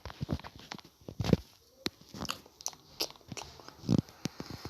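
A Roblox Brookhaven character takes repeated bites of food, producing short crunchy chewing and biting sounds in an uneven rhythm, moderately close with no talk.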